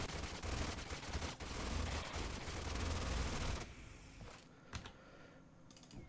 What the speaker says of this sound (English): you're going to shoot this guy